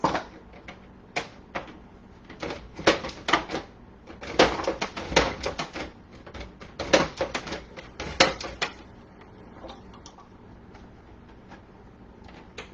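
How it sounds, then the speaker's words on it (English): Knife slicing potatoes into thin wavy chip-style pieces on a kitchen board, a run of sharp irregular taps and chops, some clustered quickly, others spaced out, close and fairly crisp with no talking. "So I'm cutting little slices that look like, see if you can see this, like those wavy potato chip slices"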